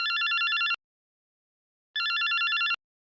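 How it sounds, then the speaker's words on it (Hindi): A telephone rings in two bright, trilling bursts separated by a pause of about a second, clear and moderately loud with no talking over it. "आज खुद से फोन आने शुरू हो गए लोगों के"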